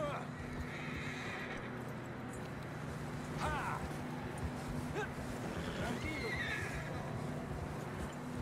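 A horse neighs and whinnies in a snowy mountain setting in the video game Red Dead Redemption 2, over steady clip-clop of hooves and a constant background hum, with short whinny calls near the middle and end.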